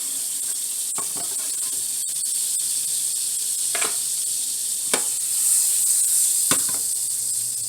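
Fat sizzling in a heated frying pan, a steady bright hiss running throughout with a few brief clicks and clatters, close by and fairly quiet, no talk.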